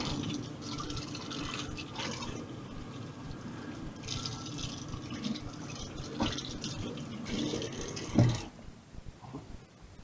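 Running water splashes and trickles as a non-stick pan is washed with the soft sponge side. Quiet scrubbing and sloshing run throughout, a brief clunk of the pan sounds near the end, and the water then stops.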